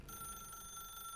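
Telephone ringing in The Stanley Parable video game, a faint steady electronic trill that holds throughout the short stretch without a break, heard alone with no speech.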